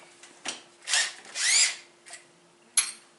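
A power drill in a home workshop making aluminum-cast quarter-scale GT40 parts gives several short whirring bursts, rising in pitch as each spins up, separated by pauses and a faint steady hum.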